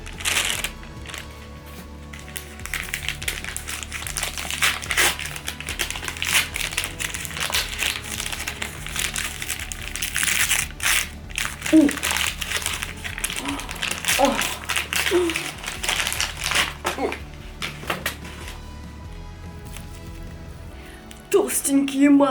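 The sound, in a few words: paper packaging of art supplies being unwrapped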